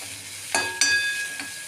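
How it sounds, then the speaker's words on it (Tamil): Ginger, garlic and small onions sautéing in a pan, with a quiet sizzle broken by a few soft stirring scrapes near the start and middle, no voices. "இதை அப்படியே போட்டு வதக்கிக்க வேண்டியதாங்க"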